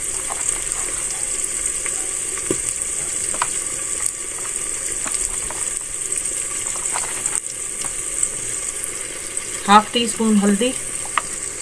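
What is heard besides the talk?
spices (salt, red chili, turmeric) frying in a pan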